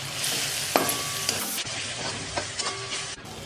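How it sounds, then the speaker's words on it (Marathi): Ginger and garlic are sautéed in a pan along with fried melon seeds and cashews for a dhaba-style gravy, giving a close, crackling sizzle broken by quick scrapes and taps of a stirring spoon. "आता आपण ना अद्रक लसूण घालू। याला आहे ना पुन्हा एकदा परतून घेऊ।"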